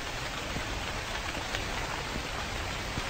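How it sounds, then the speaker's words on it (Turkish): Steady rain pours in The Convenience Store video game, a dense, even hiss of drops falling on surfaces that holds at a constant level throughout with no voices. "Yağmur."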